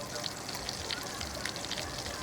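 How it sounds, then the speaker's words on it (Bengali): Fish fries in a pan with a steady, close sizzle and bubbling that runs without a break for a couple of seconds. "মাছ ভাজাও হয়ে যাচ্ছে"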